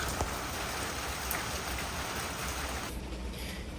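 Steady rain patters on a surface, a dense continuous hiss with scattered drops, close and fairly loud, with no voices.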